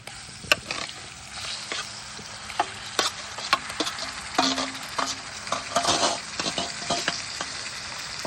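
Marinated chicken liver fries in masala in a pan, steady close sizzle with sharp clacks and scrapes of a spoon mixing it in, rising in busy bursts toward the end, no voices.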